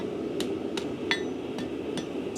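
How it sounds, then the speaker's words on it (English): Hammer blows curl the ears of hot steel over the far edge of an anvil while forging a bulldog bottle opener: five light, evenly spaced metallic taps, close and crisp, over a faint background hum. "Couple little blows from the back."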